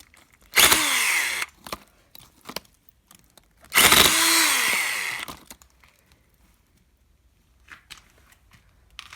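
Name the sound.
hammer drill chiselling mud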